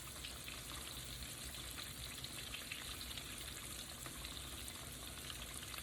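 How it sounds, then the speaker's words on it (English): Catfish pieces fry in hot oil with a steady, dense crackling sizzle that holds at an even level throughout, with no voices. "we're just gonna let those fry"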